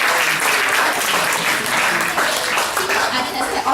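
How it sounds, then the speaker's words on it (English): Sustained audience applause at a conference welcome session, dense and steady clapping from many hands throughout, fairly loud and unbroken from start to finish. "Well, round of applause for that,"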